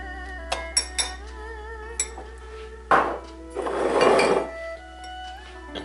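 A spoon clinks sharply against a bowl several times while soy sauce, honey and spices are mixed for braised spicy aubergine, followed by a couple of louder scraping, swirling stirs.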